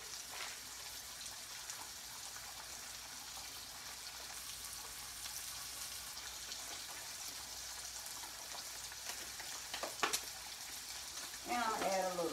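Onion and mushrooms sizzling in a frying pan alongside pan-seared pork chops, a steady crackling hiss throughout with a sharp clink near the end and a brief voice at the close.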